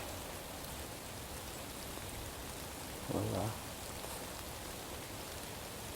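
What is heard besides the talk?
light rain falling outdoors in the woods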